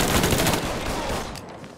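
Loud, dense gunfire in Mafia 3, a close burst of rapid overlapping shots that thins out toward the end.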